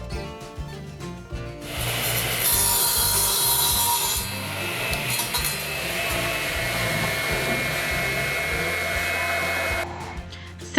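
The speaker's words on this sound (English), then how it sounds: "my husband uses the radial arm saw to quickly cut the wood to size for the doors" Radial arm saw cutting lumber to size for cabinet doors, the motor spinning up and then a long, steady, loud whining cut that runs several seconds before winding down, close by with no voices.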